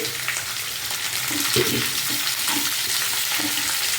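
Bitter gourd pieces, about a quarter kilo, dropped into a hot frying pan set off a steady broadband sizzle with a few soft stirring scrapes, continuous and fairly close.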